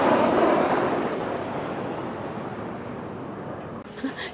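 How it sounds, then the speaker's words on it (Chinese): A fighter jet roars overhead, a broad whooshing rumble that starts loud and slowly fades as it passes, with a faint voice briefly at the end. "这是战斗机。"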